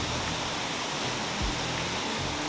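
A powerful waterfall in Arecibo, Puerto Rico roars steadily in a dense, unbroken wash of falling water, heard close up with no voices.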